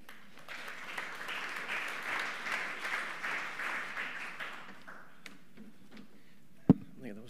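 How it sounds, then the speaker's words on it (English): Conference audience applause welcoming a speaker, a full crowd clapping loudly for about five seconds before fading into scattered claps and quiet, ending with one sharp knock. "Big round of applause for Stu."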